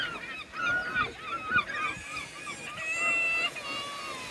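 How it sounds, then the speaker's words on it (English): Seagulls call repeatedly at a beach seafront, their shrill, overlapping cries rising over a faint background wash. "Seagull drama. Look at them all."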